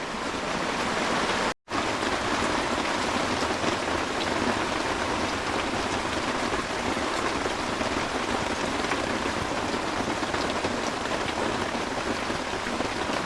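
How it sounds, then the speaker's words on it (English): Heavy rain pours down steadily and loudly outdoors, a dense continuous hiss with no talk, briefly cut by a short gap near the start. "it's absolutely bucketing down"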